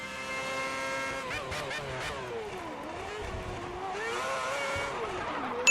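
A race car spins out in F1 2010 at Bahrain, with engine pitch sweeping down and back up as the wheels lose grip, a steady close engine drone running underneath throughout.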